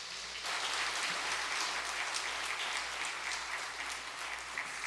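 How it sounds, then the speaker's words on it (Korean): A church congregation applauds together during a Sunday worship service, a dense, steady clapping that starts abruptly after a brief pause and holds loud and continuous throughout. "박수하겠습니다."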